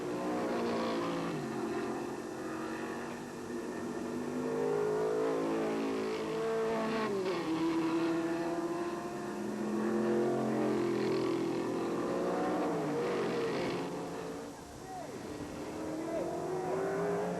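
Race cars from the 1980 SCCA GT-1 National Championship, a Plymouth and Chevrolets, racing with engines rising and falling in pitch as they accelerate and shift, loud and continuous.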